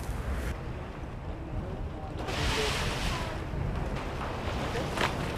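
Sea waves wash in a continuous broadband rush at St. Stephen's Beach Water Sports Center, mixed with wind buffeting the microphone, moderately loud and close with soft swells, while a voice talks over it.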